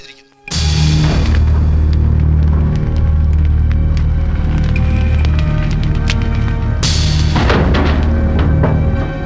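A van blows up in a night-time action scene from a Malayalam film, a sudden loud boom followed by a sustained heavy roar and rumble, with a second burst of crackling debris near the end.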